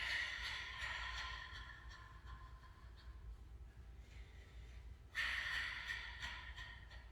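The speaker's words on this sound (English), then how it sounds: "give me 3 long, open mouth exhales." Three long open-mouth exhales during a qigong session, soft airy breaths, each fading out, with a stronger one near the end, close and alone without talk.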